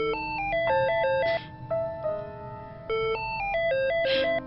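A mobile phone plays a melodic electronic ringtone for an incoming call, a repeating stepped tune that rings loud and close throughout with no talking.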